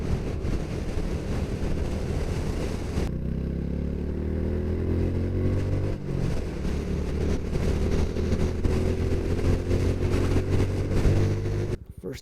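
A 2022 Honda Super Cub 125 engine pulls hard in first gear, its pitch climbing in a long rising sweep up to the rev limiter. Loud wind rush from riding covers much of the sound.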